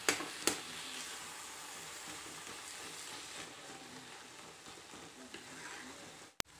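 Carrot halwa is worked in a pan, giving a soft continuous sizzle and faint stirring scrapes, with a couple of sharp clicks at the start and end, close and quiet, with no speech.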